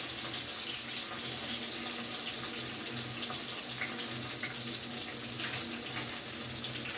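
Shrimp paste (terasi) frying in a pan with chili, garlic and clove sambal spices gives a steady, dense, close sizzle that holds at an even loud level throughout, with no speech.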